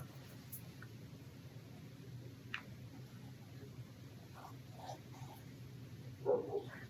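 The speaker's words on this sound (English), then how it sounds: "every single tutorial that I've done so far has dogs barking in the background, either my own or our customers" Dogs in a house bark and whimper faintly in the background, giving a few scattered yips and a short louder burst near the end over low room noise.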